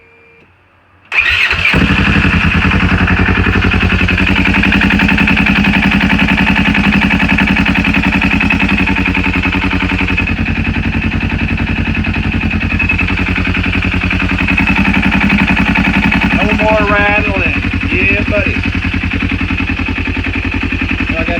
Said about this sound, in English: hopefully I can just turn the key and start it